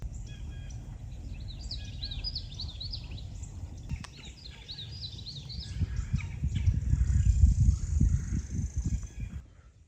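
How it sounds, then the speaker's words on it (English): Spring birds singing outdoors, several high chirping and warbling calls repeating through the middle, while a low rumbling background, like wind or handling noise, swells louder toward the end. "the birds are sure making it feel and sound like spring out here."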